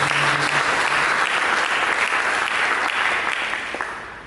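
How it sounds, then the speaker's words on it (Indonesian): Sustained clapping from a church congregation fills the space, broad and uniform, then tapers off slightly toward the end as the applause begins to fade. "Mari kita berikan tepuk tangan yang baik."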